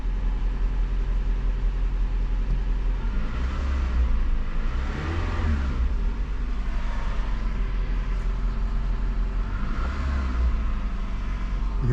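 A 2010 Scion car engine idles with a steady low rumble, then revs up and settles back down twice, the rises swelling loudly and close by with no speech.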